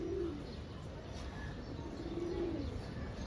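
A jira-neck army pigeon gives two soft, low coos about two seconds apart, faint and close against a quiet background hiss.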